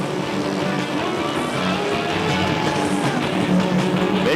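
Racing engines at a 2003 Saturday night ice race, among them a 4-stroke Honda and a 600 Yamaha, hold a steady loud roar that swells slightly toward the end.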